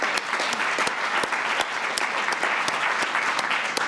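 Steady audience applause fills a room at a government summit on lead pipe replacement, dense and continuous for several seconds with sharp individual claps standing out, no talk over it.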